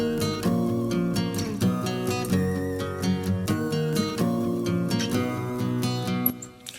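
A bright synth line sits on top of an electronic dance verse, layered over chords and a steady beat, with sustained tones and rhythmic note changes throughout, and a small sweep near the end.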